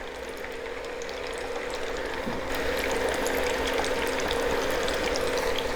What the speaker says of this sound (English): As you can see, the oil is much more aggressive. It's bubbling quite hard in a controllable way, but pretty hard.